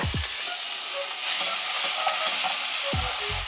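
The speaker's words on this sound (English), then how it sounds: "I'm gonna quick throw the onions in. Onions will take a few minutes." Onions frying in a pan in an RV kitchen, a steady sizzle with a couple of low clunks at the start and near the end as they're stirred.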